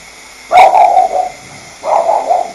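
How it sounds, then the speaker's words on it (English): A dog barks twice, a sharp bark followed by a second one about a second later, fairly close and clear. "I'm going to see what my Winnie is barking at."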